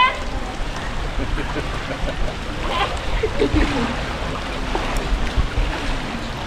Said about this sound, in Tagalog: Ang tindi ng baha. Walang tigil ang ulan.